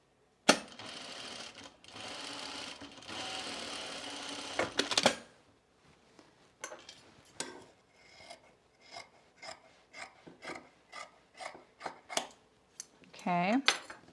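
A sewing machine stitches along the fold of a pullover camp dress. A short burst of steady stitching is followed by scattered clicks, rustles and handling of fabric, with a brief voice near the end.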